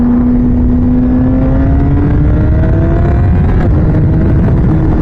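A motorcycle fitted with a Translogic QSXI quick shifter and Domino XM2 quick action throttle roars loudly and steadily up close, its engine note rising as it pulls through a gear change.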